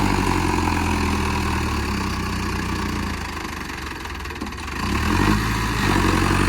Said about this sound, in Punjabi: ਟਰੈਕਟਰ ਬੰਦੇ ਹੋ ਜਾਂਦਾ ਜੀ